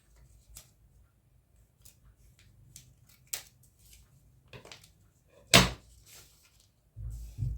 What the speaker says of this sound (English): Any excess paper you have below, you can cut them out.